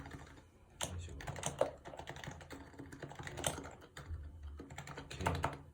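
Rapid clattering keystrokes on a Happy Hacking keyboard, typed in uneven bursts with a few heavier key hits, close and fairly quiet with no talking.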